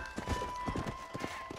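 Horse hooves clip-clop in a steady, uneven trot in the Western game Red Dead Redemption, fairly close, with a thin tonal hum from the game audio running underneath.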